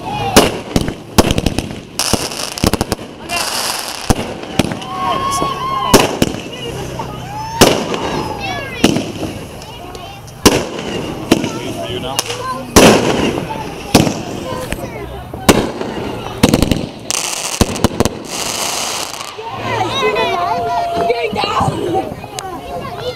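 Fourth of July fireworks show with repeated loud bursts and crackling pops, some sharp and close and others duller, firing in quick clusters throughout while a crowd chatters and people talk in the background.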